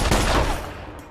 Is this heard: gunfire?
yes